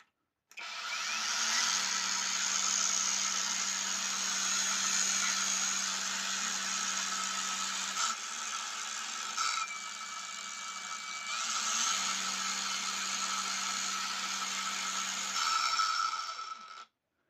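A cheap cordless angle grinder running with three speed modes, a loud steady whine with a low motor drone that shifts pitch several times as the speed changes, then cuts off at the end.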